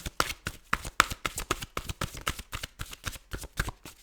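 Tarot cards are shuffled rapidly and closely, a steady run of crisp riffling flutters with no talking.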